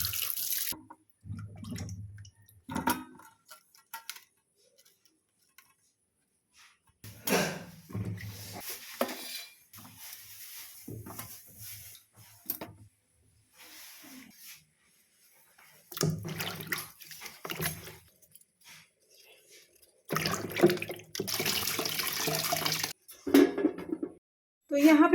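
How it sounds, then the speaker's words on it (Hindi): Sweet potatoes are washed under a running tap, with bursts of splashing, gushing water separated by quiet pauses and occasional knocks of the potatoes against a sink or vessel. "अभी मुझे देखो शकरकंद भी धो"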